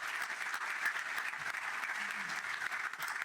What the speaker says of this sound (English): I think just a round of applause for all of our speakers